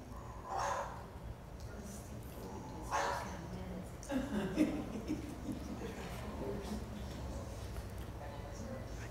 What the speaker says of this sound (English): So it's barking at my stuffed Dobie.